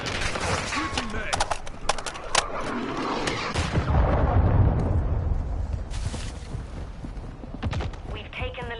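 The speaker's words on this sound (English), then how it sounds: "Friendly cruise missile deployed." A cruise missile strike explodes in Modern Warfare 2, a deep rumbling blast swelling midway and rolling on beneath sporadic gunfire cracks and game chatter, with bursts of noise scattered throughout the match.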